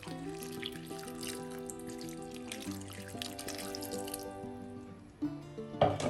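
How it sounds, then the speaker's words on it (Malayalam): Water runs steadily from a tap into a pot of pumpkin, the pitch rising as it fills, ending with a few clinks and splashes. "മത്തങ്ങ വേവുന്നതിന് ആവശ്യമുള്ള വെള്ളം ഒഴിക്കാം."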